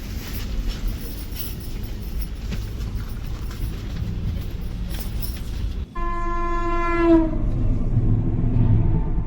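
An Ernakulam–Tatanagar Express runs with steady rail rumble and rattling carriages, and midway a loud, sustained train horn blares nearby over the continuous running noise.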